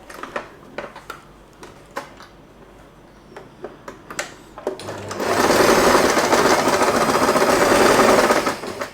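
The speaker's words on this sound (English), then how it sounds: "I have sewed all along the fabric and leave an opening right here." A sewing machine stitches fabric for a padded headband: first scattered ticking taps, then a loud, steady mechanical whir runs continuously from about five seconds for several seconds.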